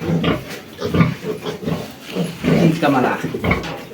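Piglets grunt and snuffle close by in short, overlapping bursts, with a person speaking softly among them.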